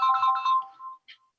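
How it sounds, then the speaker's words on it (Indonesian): A phone ringtone going off during a French lesson, a short electronic melodic chime that plays a few bright notes and then cuts off, with a brief blip after. "banyak telepon ada mengganggu"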